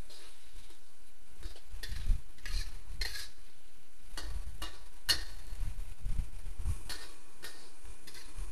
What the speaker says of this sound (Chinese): 拌炒均匀即可起锅